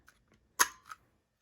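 A single sharp mechanical snap of a hand punch cutting paper, short and crisp, followed by a softer click in an otherwise quiet room.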